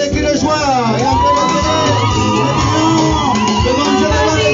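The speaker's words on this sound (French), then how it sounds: "On accompagne avec les cris de joie." Wedding guests shouting and whooping cries of joy, a loud, dense crowd of voices cheering together throughout.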